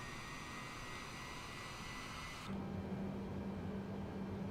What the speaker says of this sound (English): I just love the way the aircraft sounds